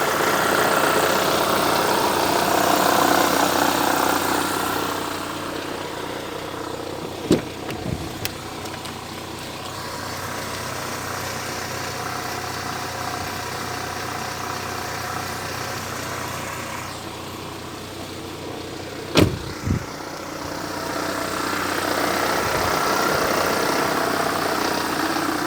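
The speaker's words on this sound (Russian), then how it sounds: "Так у нас мотор работает как дизельный." A Lada Vesta engine idles close by with a steady, rough diesel-like clatter and hum, broken by a couple of sharp clicks or knocks. The level dips slightly in the middle and then rises again.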